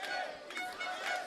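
Spectators at a European rugby sevens championship match between Israel and Sweden, a brief swell of crowd cheering and shouting from the stands, mid-distance, with voices mixed in.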